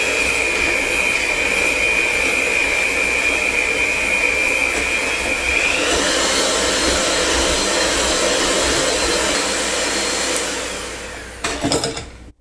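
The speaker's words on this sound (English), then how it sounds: "You have to beat it on high. And you do this until it's creamy." An electric mixer beats cake batter on high speed in a loud, continuous whir with a high whine, holding steady before winding down and ending in a few clattering knocks near the close.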